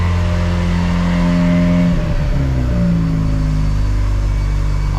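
A Mazda RX-7 rotary engine runs up close, a loud, steady low rumble whose pitch rises and dips briefly as it is revved before settling back to a smooth idle.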